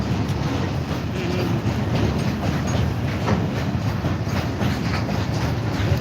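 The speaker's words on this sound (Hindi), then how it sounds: "आपको कैसा लग रहा है जो माल ट्रेन अभी पास हो रहा है निर्मली रेलवे स्टेशन से" A freight train rolls through Nirmali railway station, a steady close rumble with rhythmic clickety-clack of wagon wheels over the track, loud and continuous without speech.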